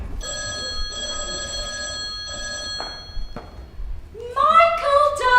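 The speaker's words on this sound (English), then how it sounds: "Michael, darling, the Prime Minister's on the phone for you." An old-style telephone bell rings in two or three long bright bursts, then falls quiet before a voice starts talking in a drama about drama education.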